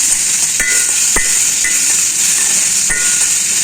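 Onions sautéing with rock salt in a pan, a steady close sizzle and hiss with a few sharp stirring scrapes against the metal.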